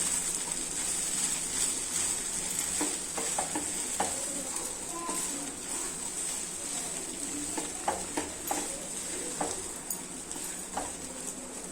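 Moong dal khichdi being stirred in a pot, with scattered scraping and clinking of a spoon over a soft steady sizzle, close and intermittent.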